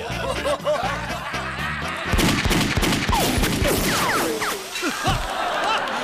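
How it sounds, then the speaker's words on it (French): Cartoon gunfire from a Lucky Luke scene, where a rapid burst of shots cracks out loudly amid chuckling and laughter, over busy background music and voices. "Il tire avec des vraies balles maintenant."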